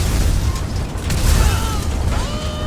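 An explosion rumbles through a police video game (LSPDFR) scene, a loud, dense blast with lingering crackling debris and mechanical clatter lasting a few seconds, without speech.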